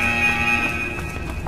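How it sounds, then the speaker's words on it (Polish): A steady, shrill electronic alarm tone blares continuously in the factory level of the video game I.G.I.2, loud and unbroken, with faint game ambience beneath and no speech. "Czemu się alarm włączył?"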